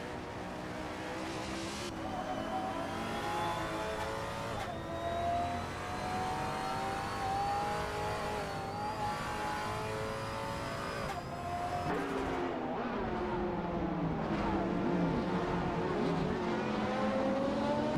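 Several race cars in a video game race on without pause, engines revving and shifting up through the gears in a dense, continuous roar with overlapping whines and no voices.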